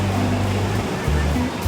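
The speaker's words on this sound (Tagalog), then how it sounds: "Lakas ng alon, no?" Broad, steady roar of strong ocean surf filling the clip, with low rumbling tones underneath and a voice briefly audible over the noise, at La Union.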